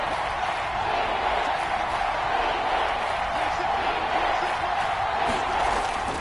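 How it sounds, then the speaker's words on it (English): A football stadium crowd roars and cheers as a big third down approaches, a dense, sustained wall of noise from many voices at a steady level with no pauses. "the crowd getting into it as we come up on a big 3rd down"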